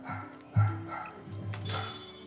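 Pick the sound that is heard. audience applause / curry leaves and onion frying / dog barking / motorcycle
dog barking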